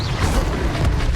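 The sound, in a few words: Incendio fire spell cast in a wizard video game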